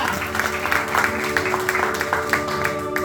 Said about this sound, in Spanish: Dan un aplauso al que vive y al que reina.